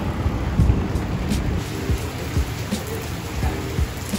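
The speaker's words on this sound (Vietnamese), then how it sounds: "mưa to gió lớn." Heavy rain pours during a storm in Hue, Vietnam, a steady hiss of falling water with scattered louder drops and low rumbles under it, close and continuous.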